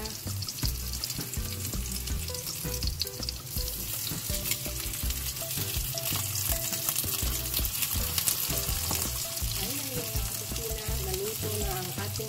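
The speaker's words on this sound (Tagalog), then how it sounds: "Pan-fry chicken." Chicken breast pan-fries in a hot pan with a dense, continuous sizzle and crackle, while a low rhythmic clatter of handling runs underneath.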